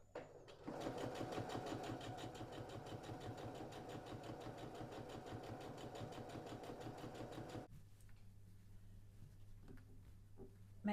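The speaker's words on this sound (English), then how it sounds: "I'm going to flip that one over there and sew down that side." A sewing machine runs steadily, stitching the seam of a quilt block for ten seconds in a fast, even whir, then stops. Faint room noise follows.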